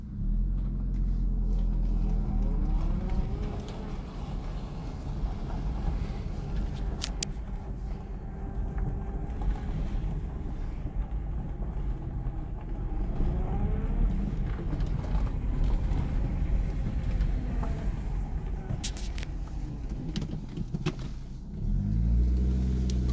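A 1988 Toyota Celica on a short drive, recorded from inside: a continuous engine drone and road rumble with gentle rises and falls in pitch as it accelerates and shifts, steady and moderately loud, no talking.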